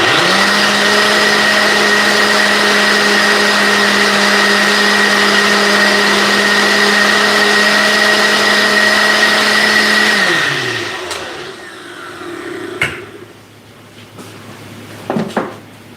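An ice cream maker churns loudly with a steady, close motor whine and hum, then winds down and stops, leaving a few clanks and knocks.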